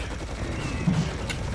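A quick burst of rapid gunfire in the video game Serious Sam HD cuts through a steady background din, with one brief sharp crack near the end.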